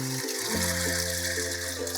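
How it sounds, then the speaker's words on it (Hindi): Water poured into three cups of chana dal to wash it for khaman dhokla batter, a short close splashing gush with a low running-water hum. "अब इसमें हम पानी डालेंगे"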